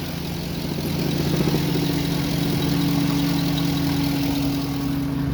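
A 2008 Cadillac Escalade engine idles steadily and close by, a continuous low rumble with a constant hum and no pauses or talk.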